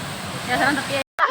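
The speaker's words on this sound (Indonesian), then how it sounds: "sekarang mari kita lihat ini keindahan dari air terjun Transitiga." The Tansi Tigo waterfall in Solok Selatan gives a steady, broad hiss of rushing water, close and constant, and cuts out briefly near the end, with a voice talking over it.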